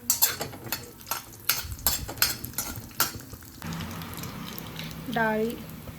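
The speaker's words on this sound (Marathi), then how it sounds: "आता हे सगळं चांगलं मिक्स करून घ्या" Chana dal and urad dal being stirred in a pan on low heat, giving a run of scraping, clattering spoon strokes against the metal, followed by a softer frying hiss with a brief voice-like tone near the end.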